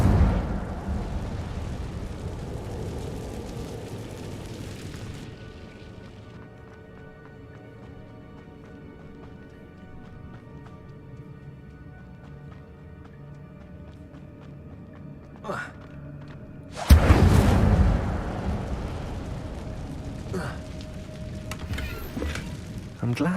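The Incendio fire spell is cast in the video game Hogwarts Legacy: one loud, sudden whooshing burst erupts partway through after a long stretch of quiet, soft background music.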